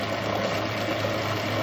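A Rolux motor converted from gasoline to battery power, running at its slow speed of about 530 RPM, with a steady, even mechanical hum and a low drone, close and uninterrupted, without speech.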